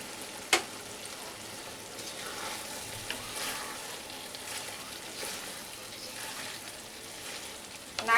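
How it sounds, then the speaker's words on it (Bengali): Grated coconut frying in oil in a pan over a medium flame, a steady low sizzle with faint stirring scrapes and a couple of brief clinks, no voices. "2 থেকে 3 মিনিট একদম মিডিয়াম ফ্লেমে কষিয়ে নেব।"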